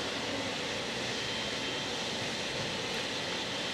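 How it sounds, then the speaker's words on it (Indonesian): An airplane carrying the president arrives in Bali, giving a steady, broad engine roar that holds at an even loudness throughout with no voices. "Inilah pemirsa bagaimana Anda bisa melihat kedatangan dari pesawat yang ditumpangi oleh Presiden Prabowo Subianto."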